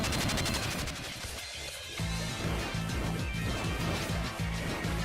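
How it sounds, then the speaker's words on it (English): A boss in Make a Good Mega Man Level 3, a Mega Man fangame, fires bursts of three bullets, heard as a steady run of sharp, punchy retro blaster shots repeating over a dense game backdrop. "He's doing the Bright Man thing where he shoots 3 random bullets."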